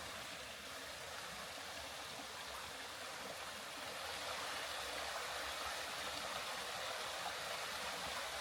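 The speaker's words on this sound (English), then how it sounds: "it looks like there's a stream I was able to get water from" A mountain stream on the North Mountain Trail in Virginia flows with a steady, close hiss of running water, continuous and fairly loud throughout with no voices.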